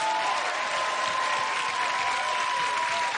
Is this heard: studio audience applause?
yes